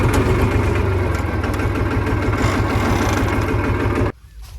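A tractor engine idles loudly with a steady low throbbing rumble, then cuts off abruptly near the end, leaving faint background noise.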